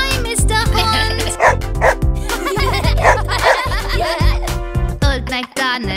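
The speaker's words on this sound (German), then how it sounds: "Schau, da ist ein richtig cooler Hund." Cartoon dog barking in an animated preschool farm song, several loud barks over a steady backing of music with singing and sung voices around them.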